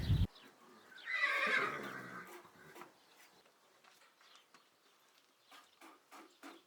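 A mare neighs once near the start with a loud, rising-and-falling whinny lasting about a second and a half, followed by quieter rustling and faint intermittent clicks across a rural yard.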